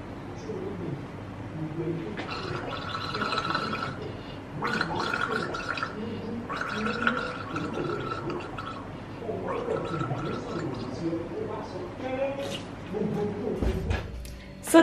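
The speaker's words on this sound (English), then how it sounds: "I'll show you how to gargle right away." A person gargling, a steady bubbling rattle in the throat in several bursts of a couple of seconds each, close and moderately loud, with short pauses between.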